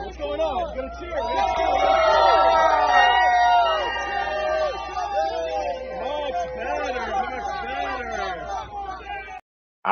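Crowd at a Trump rally in the Bronx, New York, cheering and shouting together in a loud, sustained roar of overlapping voices that swells, then thins into scattered calls before cutting off.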